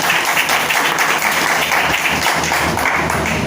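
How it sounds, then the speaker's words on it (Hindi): A large outdoor crowd at a rally applauding loudly for a new prospect, steady dense clapping filling the whole stretch, loud and continuous with no pauses. "वो सारे लोग एक बार नए प्रोस्पेक्टर के लिए एक बार जोरदार ताली होनी चाहिए"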